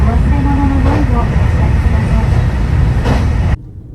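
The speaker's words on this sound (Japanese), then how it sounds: "同時に対向の特急四万十号と行き違います。" Loud JR train rumble on a single-track line as it passes the oncoming Shimanto limited express, a steady close roar with a brief squeal, cutting off abruptly near the end; no talk.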